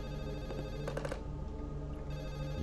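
A telephone rings inside a stealth video game, its bell trilling in short repeated bursts over steady game background ambience, loud and continuous with no talk.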